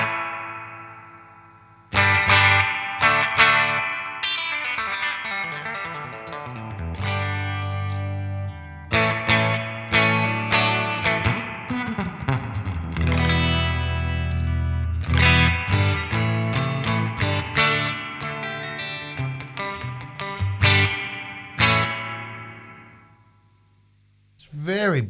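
Electric guitar through a Danelectro Spring King Junior spring reverb pedal: strummed chords and picked notes ring out with washy, lingering reverb tails, separated by short pauses, with the final chord decaying away into silence.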